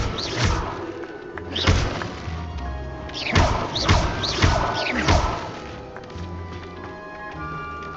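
An Incendio fire spell is cast in Hogwarts Legacy, with a series of heavy thuds and crackling whooshes repeating every second or so, loud and close over a low game background, with no talk.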